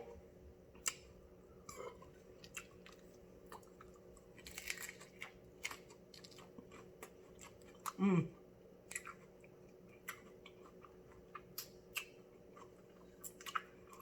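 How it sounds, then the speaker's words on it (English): Close, wet chewing of crunchy tacos with intermittent crunches and clicks, steady and unhurried, with no talking. "Ain't nothing like some good old crunchy tacos"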